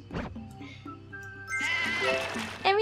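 Cartoonish sheep bleats from the video game Divide By Sheep ring out over a soft game tone, with a short bleat at the start and a brighter burst near the end.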